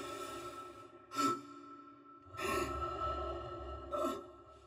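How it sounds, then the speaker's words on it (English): Isaac's strained breaths and exertion grunts in the Dead Space game: three separate close, breathy gasps over a quiet low rumble, with pauses between them. "when Isaac was sprinting or injured, you would hear additional grunts to emphasize his level of exertion"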